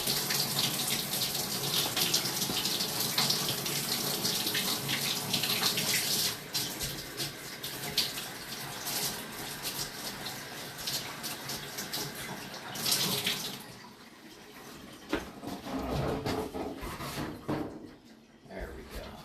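Water rushes steadily through a grease-laden residential sewer line during an inspection, a loud continuous broadband wash that thins and turns choppier toward the end.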